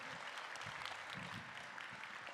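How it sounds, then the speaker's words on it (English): Faint applause from an audience at a business seminar, a soft continuous patter of clapping with a few low voices murmuring underneath. "clap it up for Jason"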